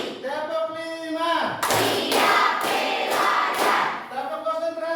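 A classroom group claps a rhythmic pattern of quick sharp hand claps in bursts, loud and close, between short stretches of a teacher's voice.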